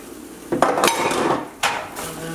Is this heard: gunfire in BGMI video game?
no